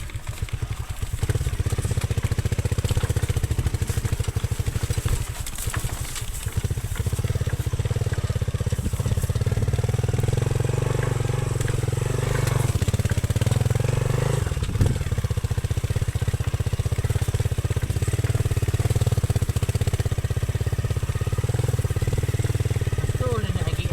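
A motorcycle engine drones continuously while riding toward a family farm house, a loud low rumble with wind and rattling, mostly steady with brief dips.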